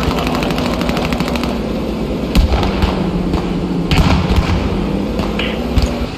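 Rapid artillery rounds fire in a video game as a loud, dense run of repeated shots, with heavier booms scattered through the steady barrage.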